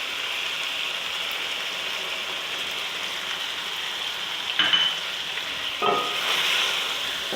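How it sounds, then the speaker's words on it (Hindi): Chicken and yogurt fry in a pan with a steady, close sizzle that sounds like rain. Two brief scraping stirs come near the end, with no voices. "दही के साथ दही को भी अच्छी तरह मैं भून लूँगी"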